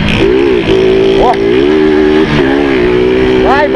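A motorcycle engine revs hard and accelerates at an informal street drag race, its pitch climbing and sagging in long sustained pulls, loud and close with excited voices shouting over it.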